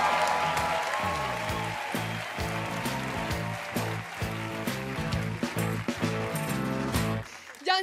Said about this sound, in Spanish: Un aplauso para Laura Acuña.